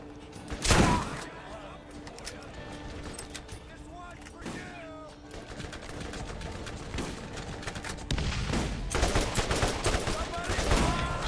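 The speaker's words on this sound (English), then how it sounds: "Oh, that's who is shooting me." Gunfire in the looter-shooter video game Borderlands: a sharp loud shot early on, then scattered shots and bursts that thicken into sustained firing toward the end, mixed with game effects.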